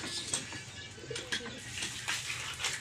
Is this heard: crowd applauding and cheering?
no